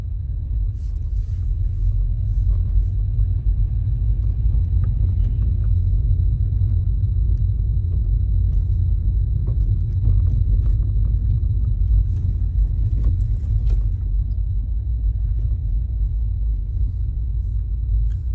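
A car driving in the dark around 8 or 9 p.m. behind a building, giving a continuous low rumble of engine and road noise that stays steady throughout, with no talking over it.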